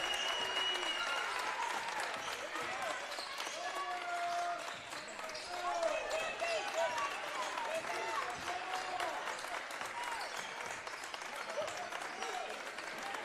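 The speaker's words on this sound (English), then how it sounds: "Northwood crowd starting to get involved." A Northwood crowd cheers and claps at a boys' high school basketball game in overtime. The noise is a sustained, fairly distant roar, with a commentator talking over it throughout.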